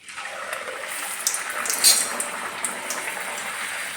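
Bhatura dough slides into hot oil and fries with a steady bright sizzle that swells briefly in the middle, then settles into a continuous crackling hiss.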